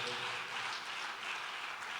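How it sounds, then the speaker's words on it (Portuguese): A church congregation breaks into applause, a dense, continuous wash of clapping over two seconds with a voice faintly underneath. "Uma salva de palmas"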